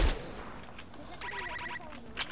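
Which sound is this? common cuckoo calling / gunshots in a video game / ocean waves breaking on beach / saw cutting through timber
gunshots in a video game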